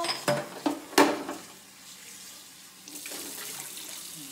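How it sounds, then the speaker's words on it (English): Bowl being rinsed under a running kitchen tap: a few sharp clinks of the dish at first, then a steady soft stream of water splashing for the rest, close and moderately quiet. "we rinse our bowl."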